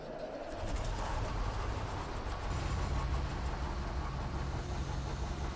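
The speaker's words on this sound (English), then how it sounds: "Start the engine." A heavy truck engine in SnowRunner turns over and settles into a steady low rumbling idle, loud and continuous with no talking.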